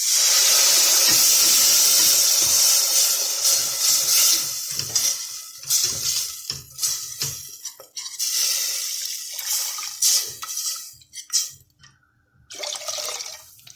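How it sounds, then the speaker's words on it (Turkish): Cold water is poured slowly into a pot of toasted flour, a loud continuous splashing pour at first that breaks into intermittent gurgles, sloshes and drips. "Şimdi 1 litre soğuk su ilave ediyorum."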